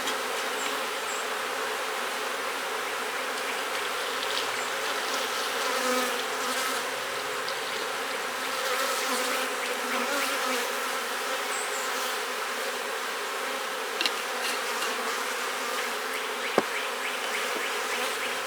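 A honey bee colony buzzes at its beehive in a dense, steady drone that holds for the whole stretch, close by, with a few faint knocks and no voices.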